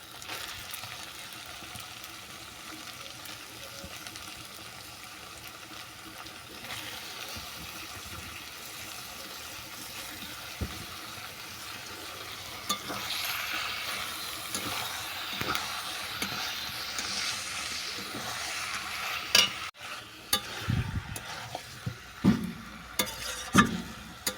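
Washed chicken stirred into spices and onion in a hot pan for a chicken and kohlrabi curry, a continuous sizzle with scraping stirs that grow louder and busier toward the end.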